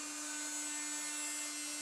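A Proxxon motor tool fitted with a flap wheel grinds a metal spacer held in an electric drill, giving a steady, even high-pitched whine that holds at constant level throughout, close and alone.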